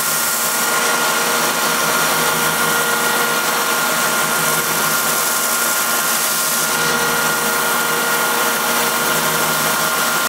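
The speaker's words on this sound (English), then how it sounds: "so I will just kind of gently soften all the corners on my belt sander" A belt sander softens the corners of wooden seat pieces for a cedar strip canoe, giving a steady, loud, unbroken whirring drone that holds evenly from start to finish with no voices.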